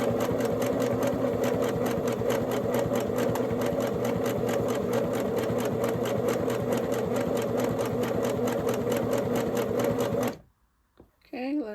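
A Singer sewing machine runs steadily through a zigzag stitch for about ten seconds, a fast, even, close mechanical rattle of the needle, which then stops abruptly, leaving a brief quiet and a faint voice.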